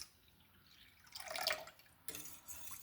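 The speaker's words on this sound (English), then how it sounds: "We're then gonna need 2¼ cups of milk. And just pour that right in." Milk poured into a bowl of pancake batter, a soft liquid splash and trickle swelling to a fuller pour, pausing briefly, then resuming with a fresh burst, close and fairly quiet with no talking.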